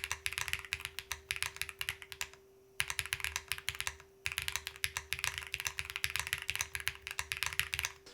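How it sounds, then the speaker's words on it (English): Fast, close clacking of keys on a QK Alice Duo split mechanical keyboard with tenting, crisp keystrokes in bursts with two short pauses. "It's actually way easier to type with the tenting."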